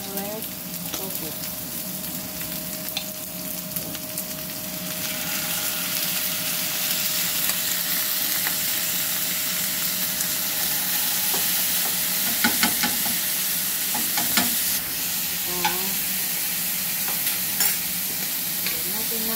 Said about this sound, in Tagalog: Fry natin ang lamb until light brown